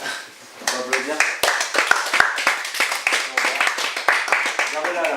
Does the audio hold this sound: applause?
yes